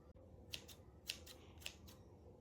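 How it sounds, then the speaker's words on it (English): Scissors snip through a paper drawing of a dumpling squishy, a few quiet, separate cuts spaced about half a second apart in a hushed room. "Now let's cut it out."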